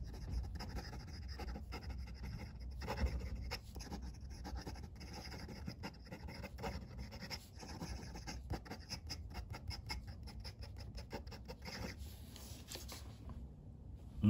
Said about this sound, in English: The pen writes so well under its own weight because there's so much weight going down towards that nib.